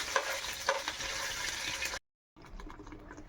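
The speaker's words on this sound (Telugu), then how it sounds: "టమాటా అండ్ ఆనియన్ పేస్ట్, పచ్చిమిర్చి, కరివేపాకు వేసి కొంచెం బాగా ఫ్రై చేద్దాం ఫస్ట్ అయితే" Tomato and onion paste with green chillies, curry leaves and ginger-garlic paste fries in hot oil for a fish curry, a close, busy sizzle with stirring scrapes, cut by a brief dropout before the sizzling resumes more softly.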